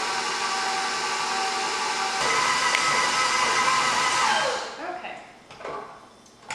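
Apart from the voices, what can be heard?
electric mixer beating tart dough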